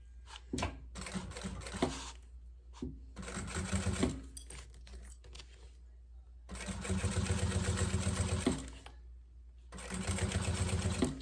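A sewing machine stitches a curved edge of a maternity bag in bursts of rapid whirring, running a few seconds, pausing, then starting again, loud and close, with no voices over the motor.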